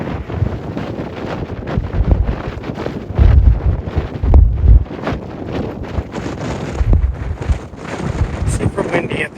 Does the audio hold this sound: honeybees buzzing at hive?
no